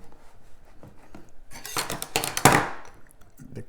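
Clattering and scraping in a bowl as chicken wings are tossed in hot sauce, a busy burst of clinks lasting about a second, close and fairly loud.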